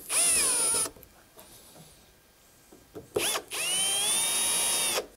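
A power screwdriver drives screws back into a wooden chimney-style beehive: two loud whirring bursts, a short one and a longer one, separated by a quiet pause with small handling knocks.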